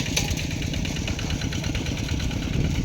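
A tractor engine runs steadily while plowing a rice paddy, a continuous mid-pitched chugging drone at moderate distance with no speech.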